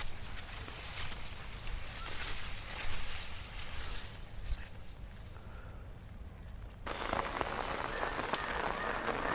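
Heavy rain pours down steadily without pause, a dense close hiss of drops striking surfaces that continues throughout, briefly muffled before returning full.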